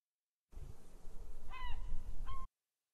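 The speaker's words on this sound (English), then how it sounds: "I'm going to use a seagull sound I found on YouTube." Seagull calls used as a daytime ambient sound effect: two short bursts of squawking cries over a soft, noisy seaside backdrop, starting and stopping abruptly as a brief faint loop.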